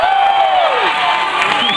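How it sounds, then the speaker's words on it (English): A convention crowd at a SEGA history panel cheers loudly and continuously, with high whoops and a sustained roar filling the room throughout. "That warms my heart to hear you guys cheering like that."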